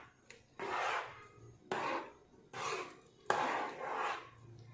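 Homemade ground masala is stirred into a pot of besibellabath, four rasping scrapes of a spoon against the pot in an uneven rhythm, close and fairly quiet.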